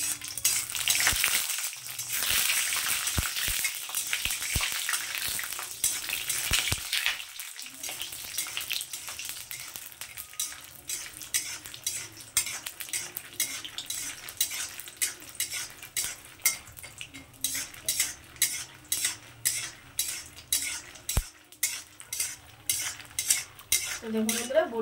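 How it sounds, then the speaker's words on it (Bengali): Homemade lentil bori frying in hot oil in a pan, a faint steady sizzle under scattered utensil clinks, then a long run of rhythmic metal spatula scrapes and taps as the pieces are turned, close with no talking. "এই বড়িগুলোকে আমি প্রথমে ভেজে নেব।"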